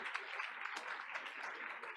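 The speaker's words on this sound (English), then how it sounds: "let's give everyone honored tonight one more round of applause." A crowd at a Board of Education meeting applauds steadily, dense clapping filling the room at moderate volume throughout.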